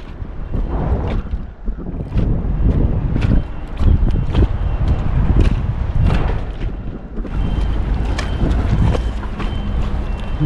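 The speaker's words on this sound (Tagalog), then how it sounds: "Mahangin masyado dito" Strong wind gusting at a dam, buffeting the microphone with a steady, loud low rumble and roar that swells and eases throughout.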